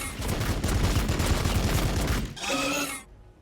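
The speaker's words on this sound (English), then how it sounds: "Machine guns!" Rapid machine-gun fire from a Warhammer 40,000 Battlesector battle, a dense loud stream of bursts for over two seconds, then a brief metallic ringing tail before it fades.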